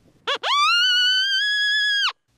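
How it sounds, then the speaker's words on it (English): Little dog hand call used as a predator call for coyote, a short squeal followed by one long, loud, steady wailing cry lasting under two seconds, alone in silence. "Now I'm going to switch to little dog hand call and try it."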